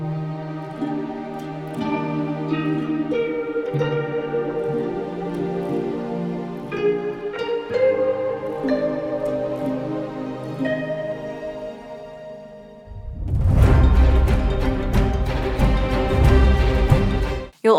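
Harp run in parallel through Chase Bliss Generation Loss, Copper Sound Polaris and Von Gogh Ultra Shear pedals in a film score: layered wavering plucked notes and chords, then a sudden dense, louder swell of bright shimmering texture near the end.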